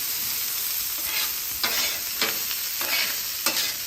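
Bell peppers, jalapenos and onions sizzle in oil on a hot flat-top griddle, a steady close hiss punctuated by several brief scraping bursts as the vegetables are tossed and coated.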